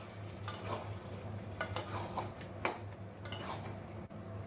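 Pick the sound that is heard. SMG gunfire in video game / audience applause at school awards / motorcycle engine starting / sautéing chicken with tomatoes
sautéing chicken with tomatoes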